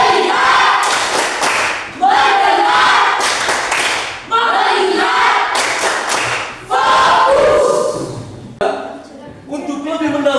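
A classroom of Catholic religious education students chanting and clapping a rhythmic 'tepuk fokus' pattern together, loud bursts of group claps and voices in sections separated by short pauses.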